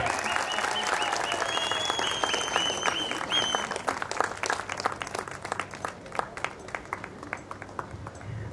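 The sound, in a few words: audience applause at award ceremony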